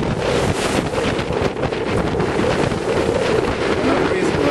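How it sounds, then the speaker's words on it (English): Steady wind rushes across the microphone aboard a Harrison Butler sailing yacht heading out of Falmouth harbour in a moderate breeze, a loud continuous buffeting with water noise underneath. "Very pleasant little breeze."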